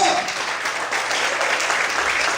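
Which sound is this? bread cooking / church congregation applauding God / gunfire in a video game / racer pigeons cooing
church congregation applauding God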